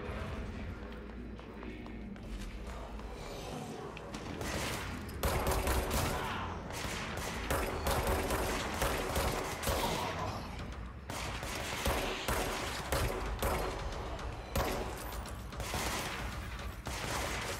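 Gunfire from a weapon in the video game Control, dense bursts of rapid shots with mechanical clatter running continuously under loud game action.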